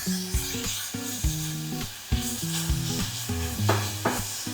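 Onions and squid, about a quarter kilo of squid lightly salted, frying in a pan for a Kerala-style squid fry, a soft sizzle under rhythmic stirring scrapes, with a tonal hum running throughout and no voices.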